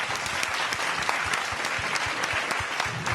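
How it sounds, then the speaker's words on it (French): Studio audience and hosts at a New Year talk show applauding, a steady sustained patter of many hands clapping at moderate level, no speech over it. "Faut s'applaudir."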